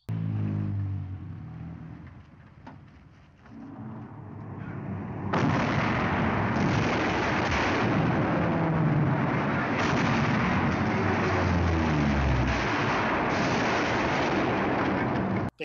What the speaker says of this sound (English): Being shelled, but they're holding the concert.